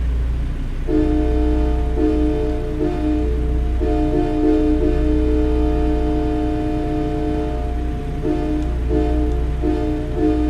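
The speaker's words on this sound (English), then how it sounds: "Because I get to use my train horn in a tunnel." A freight locomotive horn blasts inside a rail tunnel, loud and close, with repeated sustained tonal blasts over a steady low engine and rail rumble, briefly breaking off and resuming near the end.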